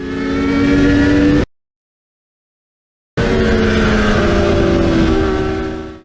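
A Yamaha R3 motorcycle revs hard on a race track, a loud close engine note climbing in pitch. It cuts out abruptly, then returns with sustained high revs.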